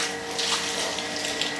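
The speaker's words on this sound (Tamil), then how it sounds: "தண்ணி கொஞ்சம் கொஞ்சம் வருது" A steady wash of running water from a tap, continuous and close, with no voices.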